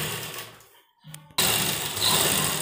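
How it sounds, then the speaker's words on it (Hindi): Sewing machine stitching a sleeveless blouse, running loud and close with a steady whir, pausing into near silence for a moment, then starting up again and running steadily to the end. "तो यहाँ पर हमें बीचों बीच एक मोटी बखिया मार देंगे"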